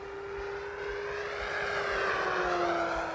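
A P-47 Thunderbolt RC model airplane engine whines steadily with a high, sustained whistle, holding a constant pitch throughout over faint background noise.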